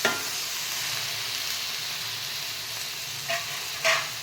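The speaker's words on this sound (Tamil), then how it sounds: "தக்காளி இப்போ வந்துட்டு நல்லா வணங்குற அளவுக்கு கிளறி விட்டுக்கோங்க" Tomatoes and onions fry in a pan for egg tomato rice while being stirred, giving a steady close sizzle with two short scraping accents near the end.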